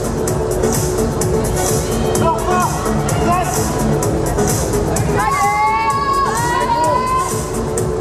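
The audience at a junior bodybuilding contest cheers, whoops and shouts continuously, a busy crowd din with several high voices rising above it.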